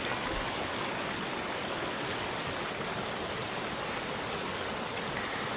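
Water flowing steadily beside rice paddy fields makes an unbroken, even rush with no pauses or voices, close and fairly full throughout.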